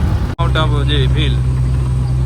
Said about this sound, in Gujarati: ગાડીનો ફૂલ એન્જિન બોલી જાય અહીંયા